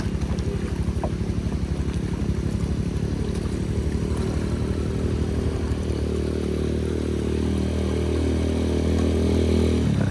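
A motorcycle engine chugging steadily as it climbs uphill on a rural road in the rain, a close, continuous low rumble that stays even throughout.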